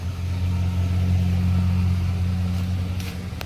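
A 2006 Chevrolet Impala SS engine cold-starting and running with a loud, steady low hum and droning harmonics, close by, with a faint clank near the end and no speech.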